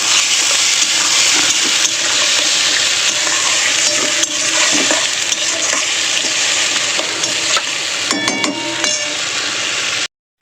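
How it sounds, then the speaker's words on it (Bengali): Ginger, garlic, onion and tomato fry in oil with salt, producing a loud, dense sizzle close by with stirring scrapes, some clinking near the end, then sudden silence. "আদা রসুন পেঁয়াজ টমেটোটা তেলের সঙ্গে ভালো ভাজা হয়ে গেছে।"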